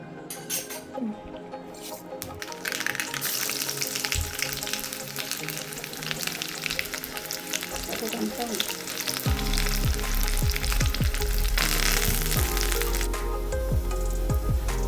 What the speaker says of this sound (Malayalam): ഇനി ഇത് നമുക്ക് കടുക് വറുത്തിടാം.